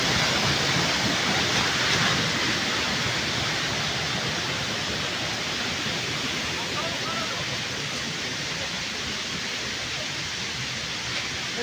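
Giridibandha waterfall in Keonjhar gives a dense, continuous rush of falling water that stays loud and unchanging throughout, with a voice faintly underneath.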